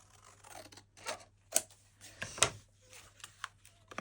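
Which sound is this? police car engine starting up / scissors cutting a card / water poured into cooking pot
scissors cutting a card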